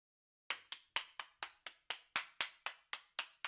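A single person claps steadily, about a dozen crisp, evenly paced claps starting after a short silence, close and clear with no voices.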